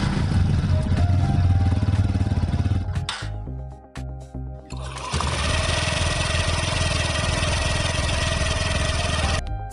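A scooter engine cranks and catches, runs loud with a steady mid-pitched idle, drops out briefly, then restarts into a continuous close-up idle, on a model fitted with a silent start mechanism.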